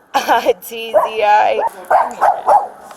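A frightened pet dog named Pippi barks in short bursts during a sheriff's deputy call, its yaps and whimpers mixed under close, ongoing talk from people nearby.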